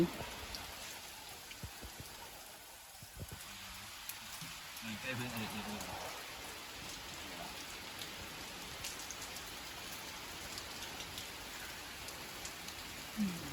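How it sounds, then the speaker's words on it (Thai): Steady rain falling outdoors beside the River Kwai in Kanchanaburi, Thailand, during a riverside bottom-fishing trip, making a constant close hiss of drops while people talk over it. "ฝนก็ตกนะคะ"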